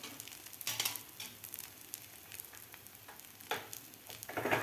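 A Maggi egg paratha sizzles and fries in a pan in a soft, continuous crackle, with occasional sharper spatters and scraping bursts, including one near the end.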